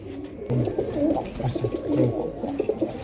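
Pigeons coo repeatedly in low, throaty bursts from close by, several birds overlapping in a steady rhythm over faint background noise.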